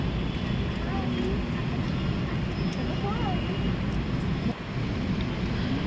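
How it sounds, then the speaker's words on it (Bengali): A passing airplane makes a steady, broad engine roar throughout, fairly loud and constant, heard from a moving vehicle with low background rumble. "এই দেখো আরেকটা প্লেনও চলে গেল"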